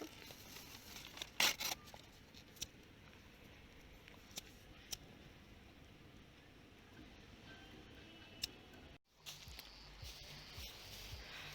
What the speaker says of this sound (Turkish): Şu çöp poşetinde ıslak mendiller var. Onlar kurumuştur. Onları deneyelim.